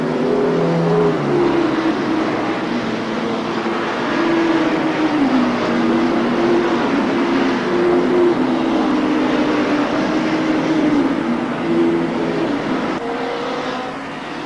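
Racing motorcycles roar around the circuit during the Castrol 6 Hour endurance race, a loud sustained engine drone with shifting pitch as bikes pass, continuous for the whole stretch.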